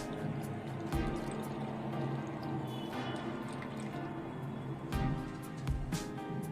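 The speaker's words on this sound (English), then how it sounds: "So slowly we pour the wine into the bottle" Homemade beetroot wine pours and gurgles into a bottle with dripping and a few clinks, quiet and close.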